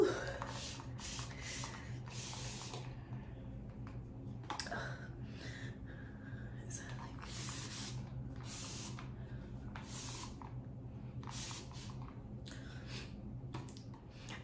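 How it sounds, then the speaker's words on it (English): A misting spray bottle is pumped onto long type 4 hair in a series of close, short hissing bursts in a steady rhythm over a low background hum. "now that I have sprayed almost the entire bottle of misting spray on my hair"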